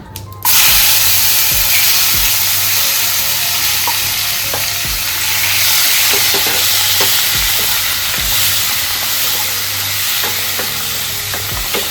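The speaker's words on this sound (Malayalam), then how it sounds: "ഇനി ഇതിലേക്ക് നമ്മൾ അരിഞ്ഞു വെച്ച ടൊമാറ്റോ ഇടാൻ പോവാണ്" Chopped tomatoes frying in a pan over cumin for prawn biryani. A loud, steady sizzle and hiss starts abruptly and runs throughout, with occasional light clicks of stirring close by.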